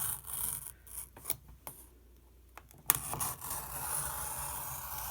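A craft knife scrapes along a ruler while cutting a 5-inch strip for a faux roll top desk, several short raspy strokes and scratches followed by a louder drawn cut near the end, close up and without talk.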